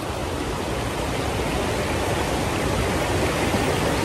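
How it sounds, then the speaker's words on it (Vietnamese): Stream water flowing past a sunny bank rushes in a steady, unbroken hiss. It is fairly loud and close, with no voices over it. "hãy xuống bờ suối nè"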